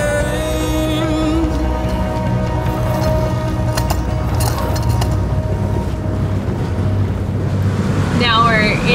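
A boat's twin engines at 2,000 RPM pushing against a 4-knot river current toward Marsden Cove Marina, New Zealand: a steady low droning hum under constant wind buffeting and water wash.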